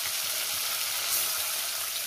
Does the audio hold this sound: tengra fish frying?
yes